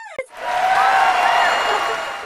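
Applause and cheering from a small group for a podcast guest, loud and steady for about two seconds after a brief vocal sound at the start.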